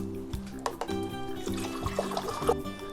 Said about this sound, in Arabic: ونرجع تاني نملى التانك بتاعنا لحد العلامه دي اللي هي علامه الماكس